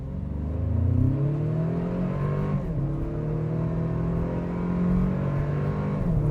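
A 2025 Toyota 4Runner TRD Pro in sport mode accelerates at full throttle, its engine droning loud and steady with rising pitch through a gear change, heard from inside the cabin with no talking.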